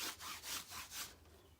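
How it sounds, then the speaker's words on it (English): A cloth rubbed back and forth over a painting canvas to work in a stain, four steady rasping strokes fairly close and quiet, then fading off. "I'm just going to rub it down with that so it becomes a stain, almost like a coffee stain"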